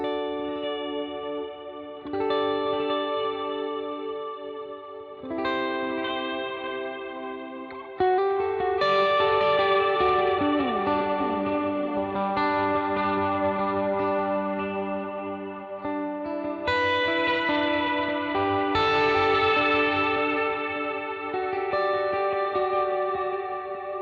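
Electric guitar played through a light-gain overdrive pedal in a worship-style setting, ringing chords and single notes with echo and reverb trails, loud and sustained across the whole passage with no talking.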